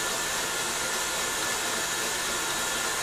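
An electric mixer whips icing sugar with strawberry milkshake for macarons, a steady close whirring motor with a broad, even hiss that runs unbroken throughout without talk.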